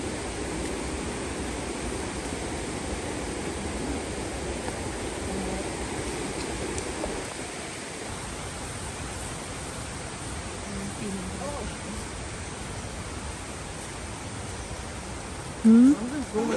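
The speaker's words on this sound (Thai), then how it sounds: "ได้ยินเสียงน้ำตกแล้วค่ะ" Steady roar of the Tad Tayicseua waterfall in southern Laos, a continuous broadband rush heard from fairly close, with faint voices underneath.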